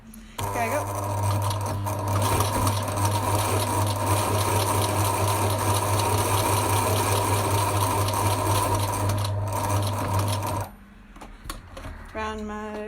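A sewing machine runs continuously at steady speed for about ten seconds, a dense mechanical whir, then stops, followed by faint handling noises.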